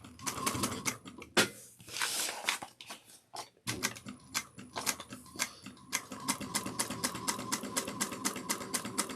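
A sewing machine stitches a Carlotta Commuter bag in rapid, even mechanical ticking. After a brief pause it resumes in steady runs, close by and moderately quiet.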